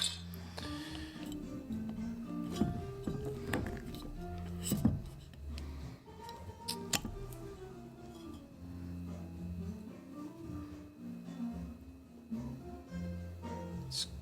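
Glass bottle of soju or sake opened by pulling an unusual tab and cork, heard as close clinks, taps and small rattles scattered through the clip, with brief quiet voices in places.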